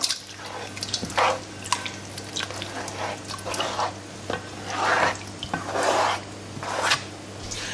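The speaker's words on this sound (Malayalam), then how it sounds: "പാത്രം എടുക്കുക, അതിലേക്ക് കുറച്ച് വെള്ളം ഒഴിക്കുക" Water splashes and trickles into a pot in several uneven pours, close by, over a steady low background hum.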